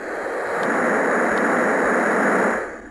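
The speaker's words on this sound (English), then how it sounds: "Ocean waves." A sleep machine's ocean waves sound: a steady roar of surf-like rushing noise swelling in and fading out, like a single looped wash of ocean waves.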